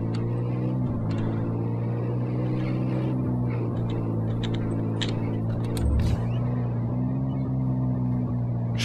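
A motorcycle engine idles and drones steadily in the action video game Just Cause 3, holding a constant pitch with a brief dip near the end, close and continuous with faint clicks on top.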